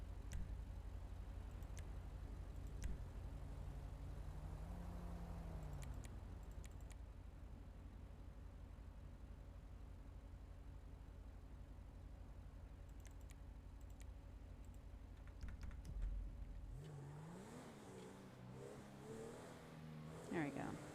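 A car engine idles and rumbles steadily in a GTA roleplay game, low and continuous with a brief rising rev near the end, under a person talking.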